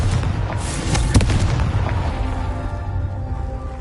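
A Confringo fire spell bursts in Hogwarts Legacy, one sharp blast with a couple of crackling pops, then a fading tail.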